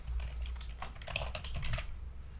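Steady typing on a computer keyboard, a quick run of clicky keystrokes heard close and alone over a low background hum.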